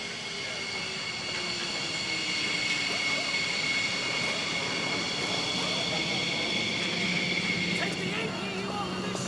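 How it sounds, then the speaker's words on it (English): Fighter jet flying low over the desert near Nellis, its engine a loud, steady roar that holds for the whole stretch with a faint whine riding on top and no break in the sound. "Low-level flying is particularly hard on fighter aircraft."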